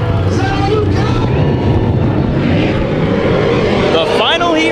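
Race cars roar together through a heat race at Kings Speedway during a Nationals event, a dense, steady engine drone that never lets up while an announcer talks over it.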